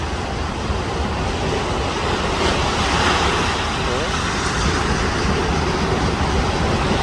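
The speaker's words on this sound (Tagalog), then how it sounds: "Malaki ng alon." Constant roaring rush of big ocean waves at Tangisan Beach, Guam, a dense broadband wash with no breaks, loud and close.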